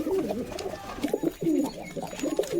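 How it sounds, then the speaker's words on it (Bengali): Domestic pigeons kept for sale as flying birds coo in low, throaty, rolling phrases, several overlapping calls close by and fairly soft, with no voices over them. "আরও কিছু কবুতর আছে তোমাদেরকে দেখাচ্ছি"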